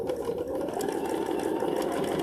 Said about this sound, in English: And then I'm going to sew backwards.